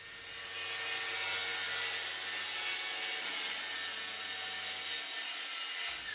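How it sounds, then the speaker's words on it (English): A table saw cuts a sheet of stock in half for cabinet drawers, a loud, steady high whine of the blade running through the material close by, the motor hum dropping away near the end, with no voices. "I'm cutting the sheet in half so that it's easier to handle on a table saw"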